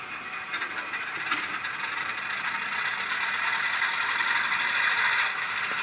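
Rapido RS-11 model diesel locomotive starting up, a faint mechanical clatter and whirring hum that runs steadily for several seconds with no talk over it.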